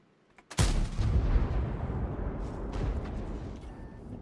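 A tank cannon shot in the MT-58 tank game: silence, then one sudden loud blast that trails off into a long rumbling decay, with no talk.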